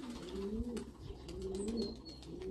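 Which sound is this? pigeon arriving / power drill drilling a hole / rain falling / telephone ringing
pigeon arriving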